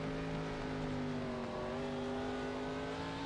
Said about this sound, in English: I think I heard McCann actually pulse the throttle a little bit